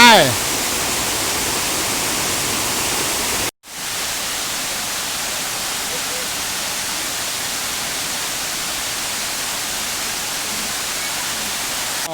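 Water rushes steadily over tier 7 of Erawan waterfall, a loud, even, broadband roar with one brief dropout, heard close up and continuous throughout.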